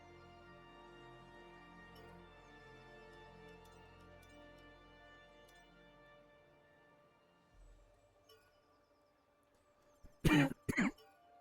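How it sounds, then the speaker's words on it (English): A single person coughs and clears their throat, two or three sharp, loud, close bursts right at the end after a long stretch of steady game music and ticking. "Excuse me for the cough."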